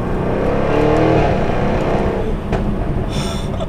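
A sports car engine revs hard and loud close by, then drops off sharply as a paddle-shifted gear change cuts in, before climbing again.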